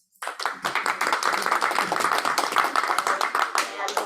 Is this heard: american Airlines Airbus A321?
no